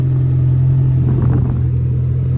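A Toyota 4Runner with its catalytic converter stolen idles with a loud, steady low exhaust drone and rumble, slightly swelling midway, no talk.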